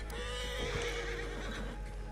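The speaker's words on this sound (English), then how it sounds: "What'd you do to my horse? My horse is all freaking out." A panicked horse in Red Dead Online lets out a loud, shrill neigh, close by, followed by a few shuffling hoof clops.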